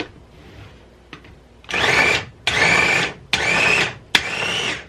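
A food processor pulses a salmon cake mixture in four loud, even bursts of whirring, each roughly a second long with short pauses between, following a few small clicks and faint handling at the start.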